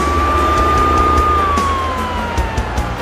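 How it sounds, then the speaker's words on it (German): A wailing emergency siren sounds steadily throughout, its pitch sweeping slowly down, loud and close over a low rumble of traffic. "Jetzt kannst du deine Sirene wieder anmachen und zu deinem Notfall fahren."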